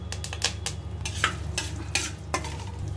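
Curry leaves, mustard seeds and asafoetida sizzle and crackle steadily in hot oil in a pan, with close popping and occasional stirring clinks throughout.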